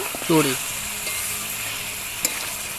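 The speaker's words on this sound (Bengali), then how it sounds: "ভালো করে নেড়ে চেড়ে নেব" A spoon stirs chicken bhuna masala as it fries in a pan, giving a continuous sizzle with a brief scrape and a light clink of utensil on metal near the end. A voice is briefly heard at the start.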